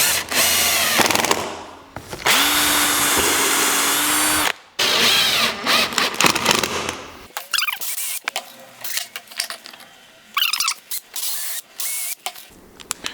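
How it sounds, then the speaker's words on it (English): A cordless power drill driving deck screws into a wooden birdhouse, loud close whirring bursts of a few seconds each, stopping and starting repeatedly with short quiet gaps between runs. "Now I'm using 2 drills just because I have them, but you can do it with 1 drill."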